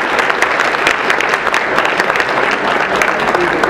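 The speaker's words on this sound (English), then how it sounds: "I'd like to give him a hand of applause" At a community dinner, the audience bursts into loud, continuous applause, a thick, even roar of many hands clapping at once that holds steady throughout.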